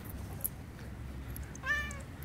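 A cat meows once, close and clear, by a parked RV in the morning, a single rising and falling cry against a low background rumble.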